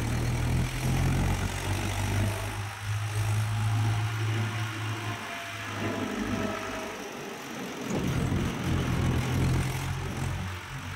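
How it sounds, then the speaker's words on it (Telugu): A Swaraj 843 XM diesel tractor engine running while driving on a road, a low steady rumble with a droning hum that swells and eases, heard close and without talk. "ఇప్పుడు నేను ఇద్దరు వెళ్తున్నాము ట్రాక్టర్ తీసుకొని"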